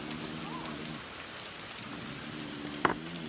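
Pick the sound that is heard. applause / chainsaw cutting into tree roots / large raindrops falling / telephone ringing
large raindrops falling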